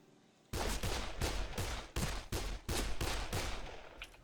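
A level 1 pistol in Dead Island Definitive Edition fires a rapid string of about nine loud, close shots in an even rhythm after a short quiet start, each blast ringing into the next.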